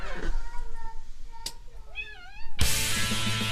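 A cat meows several times, with short wavering cries mid-clip amid household clatter, fairly close, followed by a burst of broadband noise.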